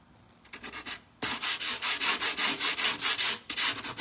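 Rhythmic back-and-forth scraping of 80-grit sandpaper on the bottom of a wooden cigar box, steady strokes close up after a few lighter passes and a brief pause.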